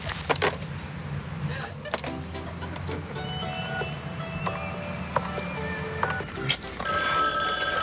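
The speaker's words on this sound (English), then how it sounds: "The phone is ringing." A telephone rings in repeated short bursts indoors, with clicks and knocks scattered around the rings.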